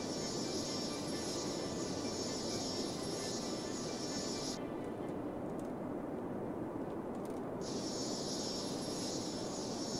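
A game airplane drones steadily through a city-building simulation, a continuous broadband engine roar with a high whine that drops out briefly midway, heard alone without speech.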